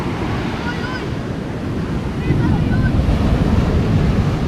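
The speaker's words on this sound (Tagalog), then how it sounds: "Tignan natin yung alon. Maalon eh." Ocean surf breaks and rolls onto a beach at a Zambales resort on a rough, wavy day, a steady loud wash of water with wind buffeting the microphone throughout.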